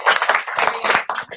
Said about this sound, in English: Big round of applause for Mette Dyhrberg, bringing it back.